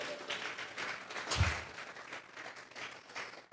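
A church congregation claps in offering during a Spanish-language sermon, a soft, fairly distant patter of hands with one louder thump near the middle, no talk over it.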